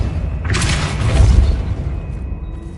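The Depulso spell is cast in the game Hogwarts Legacy, a loud forceful whoosh and booming burst that swells and rumbles for about a second before fading.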